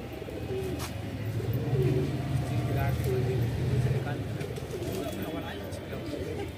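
Madrasi pigeons cooing in a loft, low rolling coos repeating near and fairly loud, with background chatter and some passing traffic.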